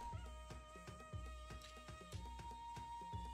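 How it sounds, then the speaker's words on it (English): A cat meows faintly and repeatedly in the Bubble Tea video game, short rising mews recurring at an even pace over a quiet background loop, with no talking. "Kitty cat! Did you hear cat?"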